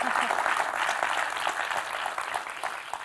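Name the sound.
audience applause at product launch event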